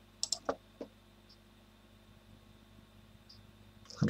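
A few sharp, quiet computer mouse clicks come in a quick cluster, then a lone click, then another at the end, over a low hum.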